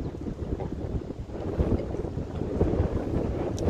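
Strong outdoor wind buffeting a microphone, a steady, rough low rumble that swells slightly over a few seconds, with no voices.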